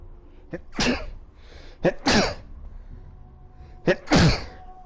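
Three sneezes in a row, each with a quick sharp intake of breath followed by a loud burst, spaced evenly about a second apart.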